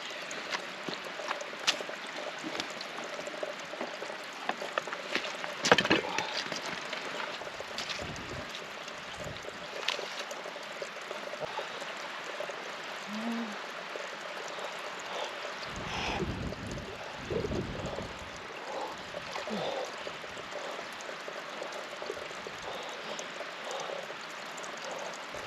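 A river flows in the Scottish Cairngorms with a continuous soft rushing wash, broken by occasional wind buffets and a few brief knocks, with no talking.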